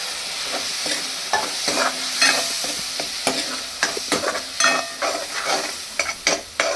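Water splashed into frying brain (bheja fry) in a pan, giving a close, busy sizzle broken by repeated scraping stirs and spatula clacks.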